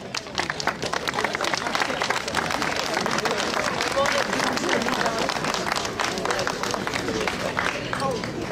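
A crowd applauds steadily at a horse presentation at the Beau Marché in Toucy, France, dense clapping filling the whole stretch, with murmuring voices mixed in.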